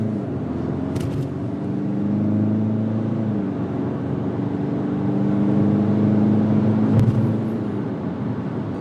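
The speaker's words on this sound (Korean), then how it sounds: "지금 풀악셀 치는데 얘가 너무 가볍게 날아가다 보니까 급 가속 시 안정감은 조금 모자란 것 같아요" A 2021 Kia Sorento MQ4 pulls hard at full throttle, its engine drone and rising tonal whine steady and prominent from inside the cabin, with a couple of brief clicks partway through.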